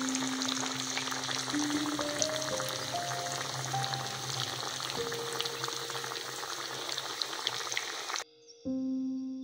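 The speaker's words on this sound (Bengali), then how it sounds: "এখানে আমি আলুটা ভালো করে ভেজে নেব" Potato pieces sizzle steadily in hot oil for chicken biryani, a close, continuous crackle with a brief gap near the end.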